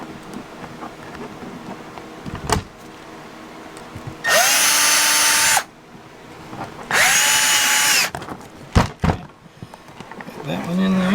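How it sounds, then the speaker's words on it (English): Cordless power drill boring a pilot hole for self-tapping screws on a MotorGuide Xi3 kayak motor mount, two loud sustained whirring bursts of a few seconds each, spinning up and down, with handling clicks and brief talk around them. "I'm still going to drill a hole."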